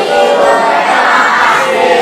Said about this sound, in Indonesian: Kita yel-yel dulu.